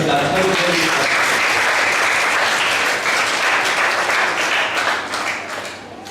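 Loud, dense applause from a workshop audience fills the room steadily, then thins and fades toward the end, with a voice briefly audible at the start.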